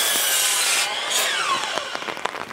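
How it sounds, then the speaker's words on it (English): A chop saw cuts through stacked wooden deck spindles, a loud continuous whining rasp of blade through wood, trailing off into short scraping bursts near the end. "We're going to bring them over to our chop saw and cut them"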